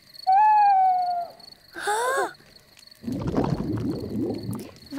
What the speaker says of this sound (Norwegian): Det er en ugle.